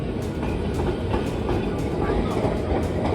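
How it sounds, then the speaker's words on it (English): An old-style tram runs through the streets of Milan, a steady loud rumble with faint rhythmic clicks of wheels over the rails, and a voice talks over it. "Just see, so old school trams they have."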